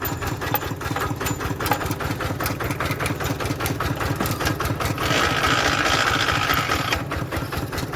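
Walking tractor engine running in reverse gear, a steady close chugging idle with rapid even knocking pulses and a brief rise in pitch midway, loud and alone.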